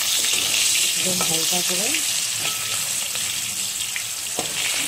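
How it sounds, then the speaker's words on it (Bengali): Potatoes fry in a pan with a loud, continuous sizzle and crackle, joined by a few brief stirring clinks and a short spoken phrase. "আলুটা ভেজে নিচ্ছি"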